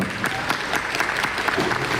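Audience applause at a community festival marking the municipality's 25 years of local self-government: dense, steady clapping from a crowd, fairly close and continuous throughout.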